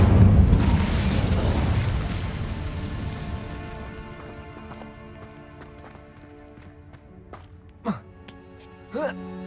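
An Incendio fire spell from Hogwarts Legacy erupts in a loud, roaring burst of flame that gradually dies away, followed by a couple of short, sharp effect sounds near the end.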